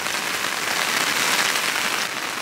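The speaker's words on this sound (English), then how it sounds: "we are getting some much needed rain right now" Steady rain pours down over a garden during a long-awaited soaking, a dense, even hiss with no pauses and no voices.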